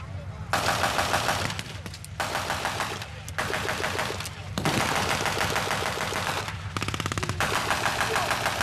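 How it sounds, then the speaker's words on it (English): A .50 caliber machine gun fires from a landing craft at a WWII reenactment, loud sustained bursts of rapid automatic fire with short pauses between volleys, close and dominating, with engine rumble beneath. "You can see right now the landing craft who's firing a 50 caliber machine gun."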